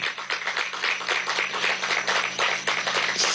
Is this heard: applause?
yes